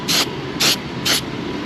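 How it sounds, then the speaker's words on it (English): Three short, even hissing bursts of spray activator hit a car hub on a Fiesta ST150, close and fairly loud over a steady background hum. "Then we'll get our spray activator, just spray the hub"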